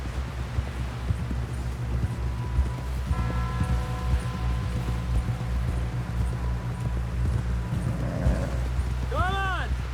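Horse hooves clip-clopping in Red Dead Redemption 2, a steady rhythmic plodding over a low rumbling hum of the game's background, with voices speaking over it and a brief higher call near the end.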